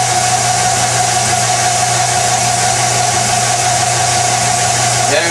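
A doubly fed generator demo rig runs with a steady mechanical hum and tonal whine, constant and fairly loud throughout with no pauses.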